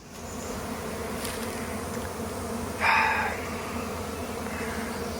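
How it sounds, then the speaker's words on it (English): Dense, steady buzzing of a honey bee swarm gathering on a cedar limb in a bee yard, continuous droning with one bee passing close and briefly louder, no talk. "there's a swarm collecting on that cedar limb right there"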